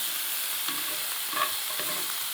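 Tofu and onions fry in a pan with a constant, even hiss. A few soft clicks of utensils come through close by. No one speaks.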